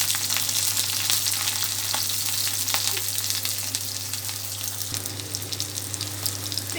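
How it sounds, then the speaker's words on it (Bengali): Onion and green chilli frying in oil with cumin seeds, a steady dense sizzle with a low hum beneath and occasional soft stirring clicks, close and continuous without talk. "জিরাটা লাল হয়ে গেছে, এরপর আমি দিয়ে দেবো পেঁয়াজ আর দেবো হচ্ছে কাঁচা লঙ্কা।"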